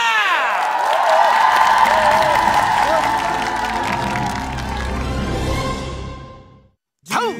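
Studio audience applause and cheering for a ventriloquist's students on a Korean TV talent show, a sustained burst of clapping mixed with swelling music, fading out before a short final whoosh.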